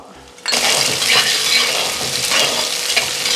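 Quartered shallots tossed into hot oil in a pan with ginger, garlic and green chilli, starting a sudden loud sizzle that then carries on steadily, with stirring scrapes on top.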